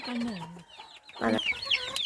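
A broody hen clucks close by in short, throaty bursts, with a drawn-out low call at the start and a quick run of clucks afterward.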